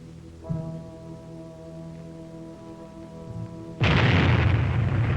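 A test bomb detonates after a low sustained tone, the blast arriving as a sudden loud roaring boom that stays heavy and rumbling to the end.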